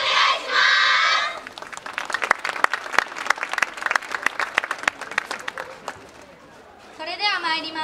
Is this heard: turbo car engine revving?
no